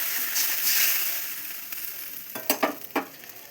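Water splashes into a hot pan of frying eggplant and catla fish and sets off a loud, steady sizzle, followed by a few sharp stirring scrapes near the end.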